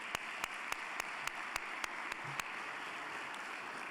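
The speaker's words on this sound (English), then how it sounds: "Let's clap for that." Audience at an athletic hall of fame ceremony applauds with a faint, distant wash of clapping, punctuated by a series of sharp, regularly spaced close claps that stop partway through.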